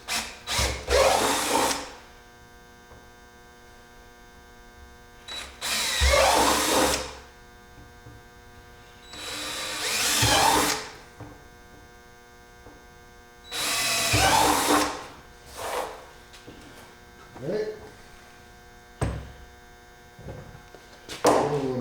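A power drill whirs in several separate bursts of a few seconds each, drilling holes with a bit just under 5/16 inch, loud and close, with quiet pauses between runs.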